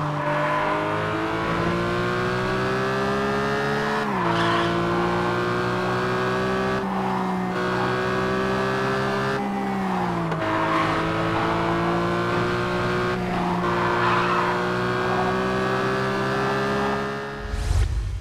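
Race cars in Gear.Club Unlimited 2 roar through high-revving gear changes, with engine pitch climbing and dropping repeatedly and tires squealing, loud and continuous throughout.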